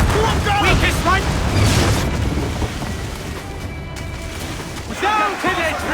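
Ship cannons fire during a naval battle in Assassin's Creed 4: Black Flag. Heavy, rumbling booms roll out over sea ambience, loudest at the start and again near the end, with shouted voices over them.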